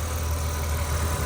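A 1998 BMW Z3 M Roadster's straight-six engine idles smoothly and steadily, a low, even rumble captured close up with no voices.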